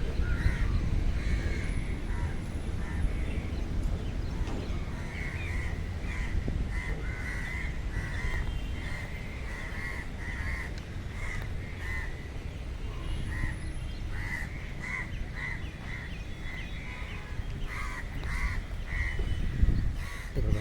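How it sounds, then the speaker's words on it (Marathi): Crows caw loudly and repeatedly over a steady outdoor background in the Konkan countryside at rice sowing time, the calls coming in frequent bursts throughout. "पाऊस येणार या अंदाजाने ते आता मोठ्या मोठ्यानं वराडत पण."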